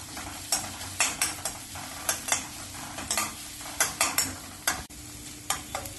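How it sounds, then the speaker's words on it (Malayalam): Onion sautéing with crushed ginger, garlic and cut green chili for a Kerala sadya masala curry, a steady close sizzle broken by frequent rhythmic spatula scrapes and taps against the pan, no voices. "ഒരു ചെറിയ കഷ്ണം ഇഞ്ചി ചതച്ചതും ഒരു 4 അല്ലി വെളുത്തുള്ളി ചതച്ചതും ഒരു പച്ചമുളക് മുറിച്ചതും ചേർത്ത് വഴറ്റാം"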